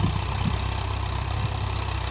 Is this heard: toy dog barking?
no